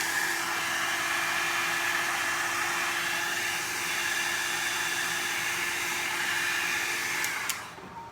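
A hair dryer blows on a brush wet with alcohol ink in a steady, loud, airy roar that runs for several seconds and then cuts off abruptly near the end.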